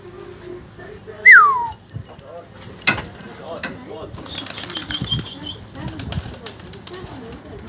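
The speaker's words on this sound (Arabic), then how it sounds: "هي الحمام بعد ما خلص جنحه" Homing pigeons take off and fly overhead in Aleppo-style pigeon keeping, with bursts of wing flapping and clattering, a sharp whistle near the start, and faint calls and voices in the background.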